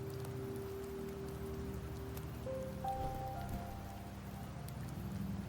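Steady rain falling in the Septimont area of the video game Wuthering Waves, a soft continuous patter with faint musical tones over it.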